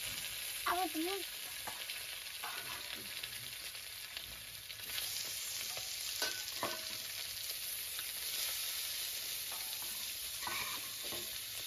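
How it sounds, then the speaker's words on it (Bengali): Country chicken frying in a kadai with turmeric, chili and salt in a village kitchen: a constant close sizzle under repeated scraping stir strokes, each a short rasp spaced a second or two apart, with no clear speech. "দেখ ভাজা হয়ে গেছে আর একটু ভেজে নিয়ে ভালো করে ভাজা হয়ে গেছে"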